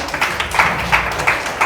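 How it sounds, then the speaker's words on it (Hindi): A seated audience at a direct-selling marketing seminar claps on request, a loud close burst of hand claps with a loose pulsing rhythm over roughly two seconds. "ताली बजा दे एक बार।"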